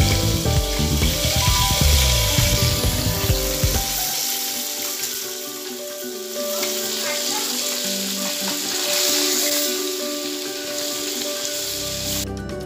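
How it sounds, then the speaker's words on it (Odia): Pieces of fish fry in hot oil with a dense, loud, continuous sizzle and crackle, close by, with a brief clatter near the start and no speech. "ଦେଖନ୍ତୁ ମାଛ ଭଜା ଚାଲିଛି।"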